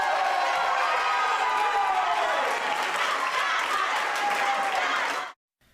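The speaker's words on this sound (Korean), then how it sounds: "공격에 성공할 때마다 우레와 같은 함성이 곳곳에서 터져나옵니다" Spectators at a fencing hall roar and cheer with thunderous shouting and clapping during a team final, a loud continuous crowd din that holds for several seconds before cutting off abruptly.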